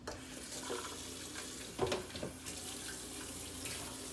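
Water runs from a tap while a cup is washed out, a steady hissing splash with brief sloshes and knocks as the cup is handled, close and moderately quiet.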